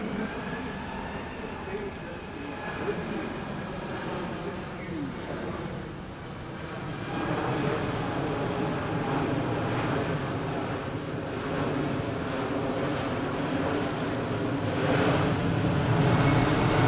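An Airbus A380 with Rolls-Royce Trent engines flying a display at an airshow, its deep sustained jet roar steady and loud, swelling further partway through as the aircraft passes, with a voice faintly under the engine noise.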